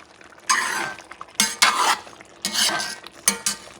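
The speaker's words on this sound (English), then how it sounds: "So mixing everything up." A spoon stirring and mixing Persian chicken stew (khoresh-e morgh) ingredients in a pot, four or five short scraping and clinking bursts up close, with quiet pauses between them.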